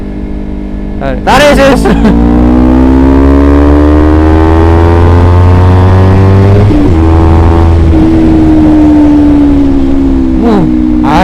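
Close, loud motorcycle with a DX Generation Sphere Oval exhaust revved hard, engine pitch climbing and holding in a sustained drone, easing off briefly then revving again, with short bursts of talk over it.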